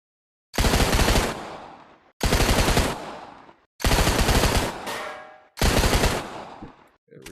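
A .50 caliber machine gun in the VR game Gun World VR fires four long, loud bursts of rapid shots, each burst cutting off into a brief decaying echo before the next.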